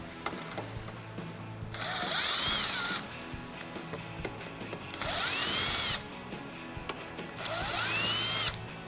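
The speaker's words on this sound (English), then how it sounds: "removing our factory bolts out of our windshield pillars so we can attach our brackets" A power tool with a T40 Torx bit backs factory bolts out of the windshield pillars of a 2007–2018 Jeep Wrangler JK. Three separate close whirring bursts of about a second each are separated by quieter gaps, with no speech.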